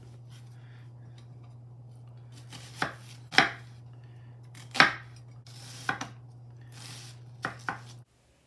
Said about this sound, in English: Now I need to dice about a half of this yellow onion.